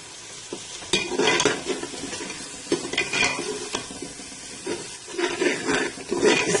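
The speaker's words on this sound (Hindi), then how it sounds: "अब मैं इसमें लहसुन अदरक का जो पेस्ट है वो डाल दूंगी" Garlic ginger paste fries and is stirred in a hot pan for mutton paye, a steady close sizzle broken by scraping spoon strokes in uneven bursts.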